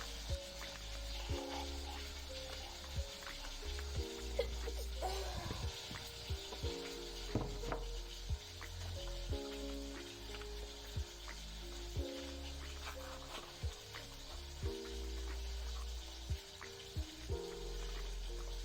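Rice sizzles and crackles quietly in a pan with occasional stirring scrapes, while soft music plays in the background.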